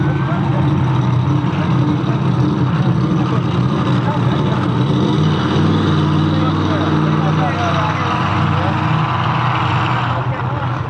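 The blown, alcohol-injected engine of the 1941 Willys race car King Sling rumbles steadily and loudly at a race event, a dense, continuous roar running under an announcer's talk.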